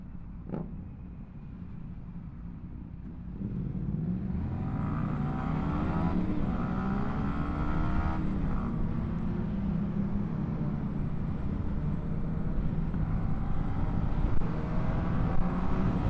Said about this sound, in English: The one behind me is the loud one, the R6. I think it's got Black Widow exhaust installed on it. It is loud, no baffling in it as well.